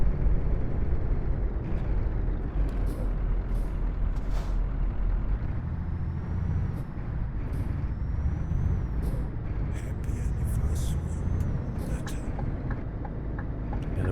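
A truck's air brakes hiss over a steady low engine rumble in a truck-driving video game, with a few short sharp bursts of brake release near the end and no talk.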